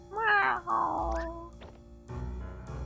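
A video game cat gives a couple of bright, rising meows, close and clear, followed by quieter game sounds and a low background hum.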